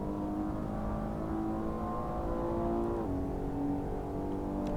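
The V12 engine of a Maserati Levante S SUV in the racing game Assetto Corsa drones at high revs, a steady harmonic howl that dips in pitch as it shifts partway through, with no talk over it.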